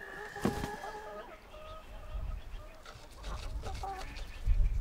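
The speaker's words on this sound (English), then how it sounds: "Careful with Rooster, because he's saucy" A farmyard rooster clucks in a few short, bright bursts, fairly quiet and near, with soft rustling and low thumps around it and no talk.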